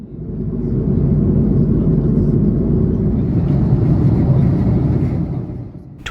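Steady, loud low-frequency drone inside the economy cabin of an Air Canada Airbus A330-300 cruising above the north coast of Spain, a continuous engine and airflow rumble with no voices.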